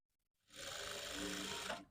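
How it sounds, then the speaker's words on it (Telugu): A sewing machine stitches a cut-work neckline piece in one steady, continuous run of a little over a second, close and clear, with no talking. "సో ఒక కుట్టు అయితే వేసుకుందాం"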